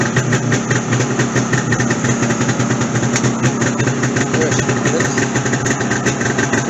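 A 2022 Polaris LXT snowmobile engine idles nearby in extreme cold, with a steady, rapidly pulsing mechanical rumble and fast clicking ticks. A voice speaks briefly over the running engine.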